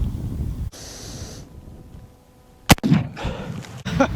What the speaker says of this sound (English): So let's see if we can shoot underneath one of those jugs.